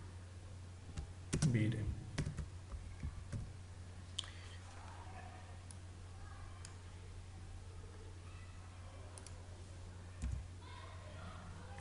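Text is typed on a computer keyboard while working in Civil 3D 2017 drafting software. Scattered close key clicks run under a man's intermittent speech.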